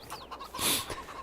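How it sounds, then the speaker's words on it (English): A few short, soft clucks from a chicken in Farming Simulator 22, with one brighter squawk in the middle, heard alone and fairly close. "As we can see, chickens."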